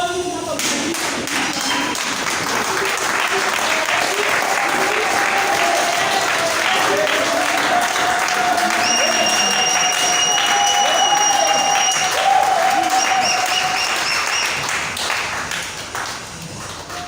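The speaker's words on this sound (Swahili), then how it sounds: "Ninaomba tukaweze kusimama tukipiga makofi tunapomtumikia." Church congregation clapping steadily throughout, a dense continuous wash of applause with a voice singing or speaking over it in the middle.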